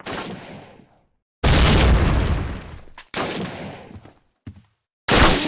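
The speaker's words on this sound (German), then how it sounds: "Granate! Granate! Feindliche Granate!" Grenade blasts and gunfire in Call of Duty (2003) during the Pavlov's house mission, loud booming bursts cutting in abruptly, separated by sharp silences, with rattling debris trailing off after each.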